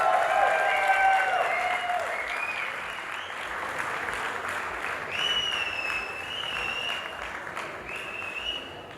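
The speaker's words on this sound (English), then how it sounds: "we just cannot get enough of the applause" A crowd at a wedding reception applauding steadily, dense clapping with some voices and cheers mixed in, holding at a fairly even level throughout.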